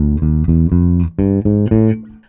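Bass guitar plays a unison phrase from a song, a short run of punchy, separate notes with brief gaps, ending in a fading sustained note, played alone.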